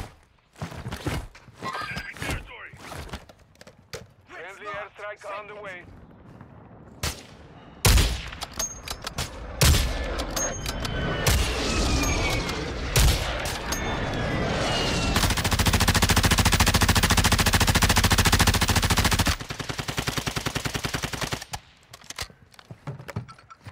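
Video game gunfire crackles throughout as bursts of rapid automatic fire and single shots, varying between near and far, with sustained heavy firing in the latter half and footsteps in between.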